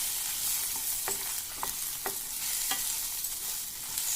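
Coriander seeds crackle as they dry-fry in a pan, with a soft hiss and four or five distinct scraping strokes of a spoon stirring them, close and fairly quiet.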